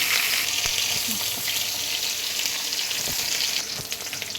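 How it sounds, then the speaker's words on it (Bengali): Fish fried in a wok sizzle and crackle with a steady, dense hiss of hot oil, close and fairly loud, with a few faint clicks and taps along the way. "এই জন্য মাছগুলো কড়াই ভাজতে দিয়ে দিয়েছি।"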